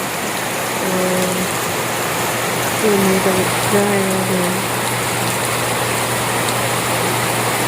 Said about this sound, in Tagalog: Yung kapitbahay namin dito, nag-ulan.